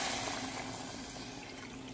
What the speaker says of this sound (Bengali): পুরো জল অ্যাড করে দিচ্ছি।